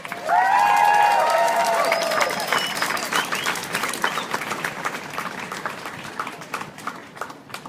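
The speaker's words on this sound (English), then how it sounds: "Let's get a round of applause for Dr. Fox" At a March for Science rally in San Diego, an outdoor crowd cheers and applauds for Dr. Fox. Whoops and whistles rise at the start, then dense clapping carries on steadily and slowly thins out.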